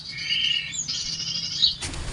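Small birds at a bird-trapping spot give high, clear chirps and trilling tweets close by, one sustained call shifting in pitch before a brief burst of rustling at the end.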